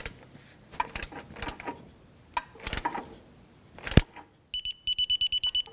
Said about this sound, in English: Let's get our torque wrench.